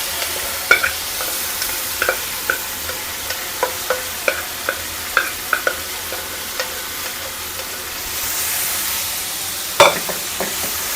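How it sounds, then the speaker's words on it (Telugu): Boiled carrots with turmeric fry in a pan, giving a soft steady sizzle broken by repeated clear scrapes and taps of a spoon stirring, with a louder clatter near the end. "ఇది కొంచెం చెమ్మ పోయేంత వరకు ఫ్రై చేసుకోవాలి"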